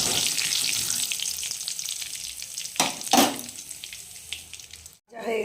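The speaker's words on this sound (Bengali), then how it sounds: "দিয়ে মশলাটাকে খুব ভালো করে ভাজা ভাজা করে নেব।" Whole cumin, cloves, black pepper and green cardamom frying in hot oil in a wok, a steady loud crackling sizzle with a few stirring scrapes near the end and a brief break before it resumes.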